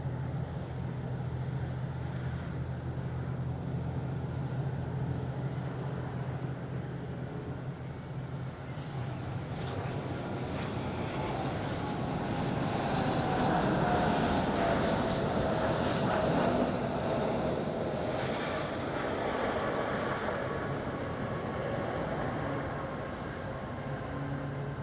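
A jet comes in to land on runway 05 at Madeira Airport, a broad, distant engine roar with wind noise that swells to a peak midway and then eases off.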